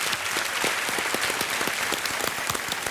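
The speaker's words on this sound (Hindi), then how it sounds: "तालियों के साथ एक बार फिर इनका" A studio audience on the TV quiz show Kaun Banega Crorepati gives dense, sustained applause that fills the room evenly for the whole stretch, with no voices over it.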